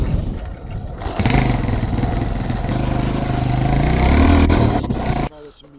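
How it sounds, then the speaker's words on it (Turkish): A motorcycle engine in a rural village revs and roars steadily, growing louder as it draws near before cutting off abruptly, with voices talking over it. "Motorun sesini duydum zaten o gelir"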